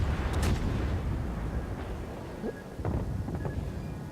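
Naval gunfire from the cruiser Fiji in World of Warships, with deep rumbling booms and scattered sharp reports over a heavy, continuous low battle roar.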